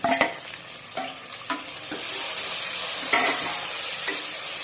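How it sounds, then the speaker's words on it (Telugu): Tomatoes dropped into sizzling softened onions in a pan and stirred, a sharp clatter and hiss at first, then a steady frying sizzle broken by a few spoon scrapes, close and clear. "ఈ టైంలో మనము ఈ టమాటాలని అందులో వేసేయాలి."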